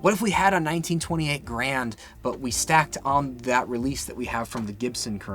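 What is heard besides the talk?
No everyday noise stands out behind the speech.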